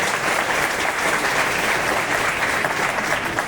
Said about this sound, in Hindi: इतनी तालियां नहीं चलेगी भैया